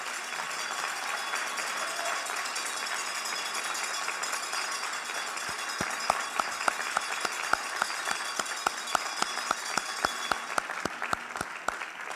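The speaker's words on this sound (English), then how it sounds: "before I tell you a little bit about Panny, I'd like to ask her family members to stand up for a round of applause" An audience at a white coat ceremony breaks into sustained applause, a dense wash of clapping filling the room, with a few sharp individual claps standing out near the end.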